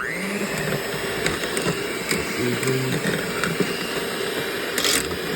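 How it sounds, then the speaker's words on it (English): A hand blender whirs steadily while shredding cooked chicken inside an Instant Pot, a continuous close mechanical drone with faint rattling and clicking, as someone speaks briefly over it. "I put the blender in with the chicken"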